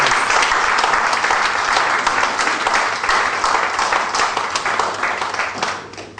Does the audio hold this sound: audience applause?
yes